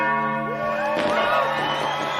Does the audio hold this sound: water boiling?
no